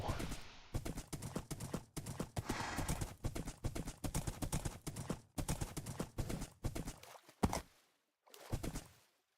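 A horse in the Minecraft video game clip-clops in a steady, loud, rapid run of hoofbeats that pauses a few times and then resumes, with a person talking over it.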